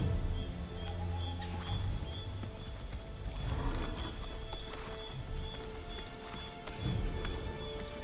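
Horse hooves clip-clopping in the game Assassin's Creed, irregular thuds of a horse moving at a walk under a steady hiss of rain and a constant tonal game hum.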